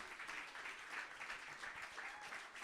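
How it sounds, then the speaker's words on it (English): Sustained audience applause at a Canadian slam poetry championship, dense continuous clapping from a large crowd filling the room at steady loudness throughout. "Keep that round of applause going for Lindsay"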